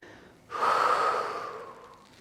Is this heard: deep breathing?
yes